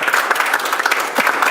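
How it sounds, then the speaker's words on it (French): Spectators at a French under-17 team draw ceremony applaud a women's national team, a brief, loud, steady burst of clapping from many hands. "On peut les applaudir s'il vous plaît"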